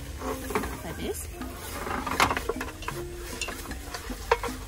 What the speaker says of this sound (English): Stir them well in the pot,